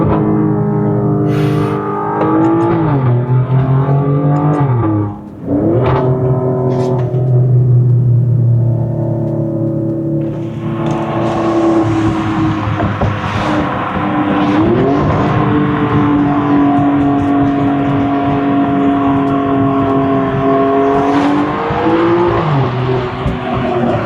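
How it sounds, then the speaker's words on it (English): An Alfa Romeo Stelvio Quadrifoglio with a Z-pipe resonator-delete exhaust revs up and falls back through several shifts, its loud, raspy engine note rising and dropping, with brief sharp pops as it downshifts. "in these cars, when you downshift, if you hold the gas down very slightly, it makes a nice pop every time it downshifts"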